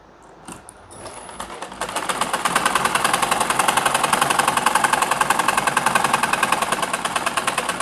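After a few handling knocks, a sewing machine starts up and runs steadily, stitching pajama pocket fabric with a fast, even, close mechanical chatter that holds for several seconds.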